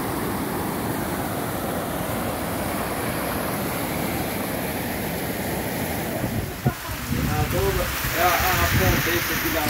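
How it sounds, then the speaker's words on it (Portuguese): Steady heavy downpour hissing across the whole clip during a flood in Cipé, with someone talking over it near the end. "Muita chuva aqui no Cipé"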